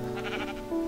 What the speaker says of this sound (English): A flock of sheep.